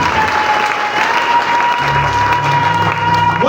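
A church congregation at a Sunday service claps together in loud, dense, continuous applause that fills the room, with a low sustained tone joining partway through.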